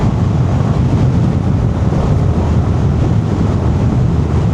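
Strong wind roars steadily across the microphone while riding a Yamaha XSR motorcycle over a highway bridge, a loud, constant low rumble with no pauses and no talk.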